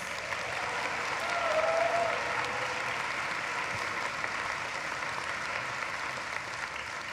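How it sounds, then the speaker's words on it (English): Audience applause for the musicians at a law school commencement ceremony in an arena, a steady wash of clapping from a large crowd heard from a distance, with no talk over it. "Let's give them a round of applause."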